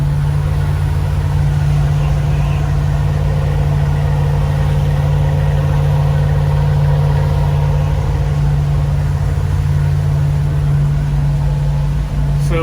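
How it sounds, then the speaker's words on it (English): Inside a liveaboard boat on the Great Loop near Fort Walton Beach, the engine runs at about half speed, a loud, steady low drone with a strong constant hum and vibration. "So we cut the engine speed back to about half."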